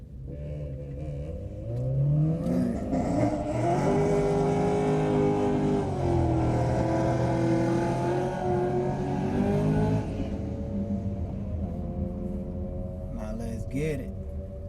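Two cars accelerating hard side by side down a drag strip at a race track, a BMW X5 among them, engines rising through the gears loud and close for several seconds before easing off, with people talking nearby.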